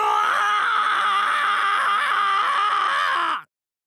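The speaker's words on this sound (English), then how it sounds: "Nice scream." A character in the Hundred Line Last Defense Academy video game lets out one loud, sustained, wavering scream that holds for several seconds, then cuts off abruptly into silence.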